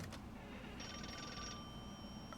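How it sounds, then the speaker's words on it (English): A telephone rings in a short burst of bright, trilling tones over a quiet, low background hum, with a faint tone lingering after the ring stops. "The phone ringing non-stop, you say."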